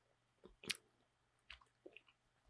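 Starburst chewy candy being chewed up close, heard as a few soft, scattered wet chews and squishes with quiet gaps between them.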